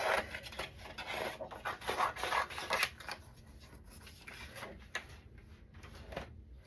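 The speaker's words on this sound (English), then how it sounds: "and cut it with scissors." Scissors snip through paper along a hand-drawn wavy pencil line in a series of close, rapid crisp cuts for about three seconds, then quieter rustling of the paper and a few lighter snips.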